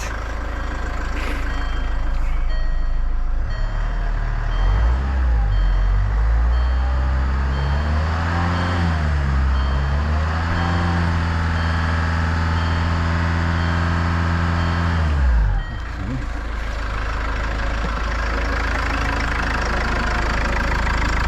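Range Rover Evoque engine revving up from idle and held steady around 2,500 RPM, a loud continuous rising drone with strong harmonics, then dropping back to idle after about fifteen seconds.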